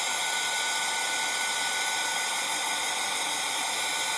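A hair dryer blows steadily and loudly up close, drying paint on wooden Easter shapes, a constant broadband whoosh with no pauses or voices.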